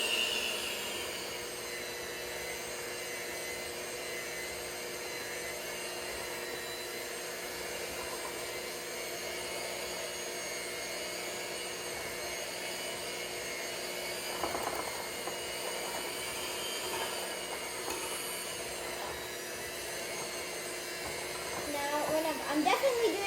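Electric mixer whirring through Krusteaz Meyer lemon cake batter: a steady, fairly quiet motor drone that runs the whole time, with faint clatter and background voices.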